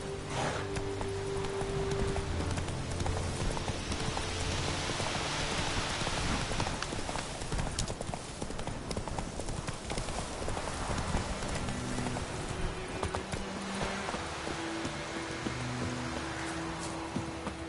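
Roach, Geralt's horse in The Witcher 3 Next Gen, galloping with a steady rapid drum of hooves under a dense wash of rain and ambient noise, continuous and fairly loud throughout.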